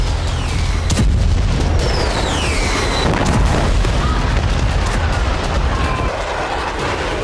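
Bombardment from Israeli strikes in Lebanon: heavy booming explosions and sharp blasts thud through a loud, rumbling background, with whistling streaks overhead and a few distinct impacts spread across the stretch.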